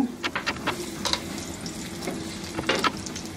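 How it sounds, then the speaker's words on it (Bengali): Garlic sizzles and crackles steadily in oil in a pan over medium heat, with a few sharp utensil clicks and scrapes close by. "এর মধ্যে আমি এই রসুনগুলা দিয়ে একটু ভাজবো।"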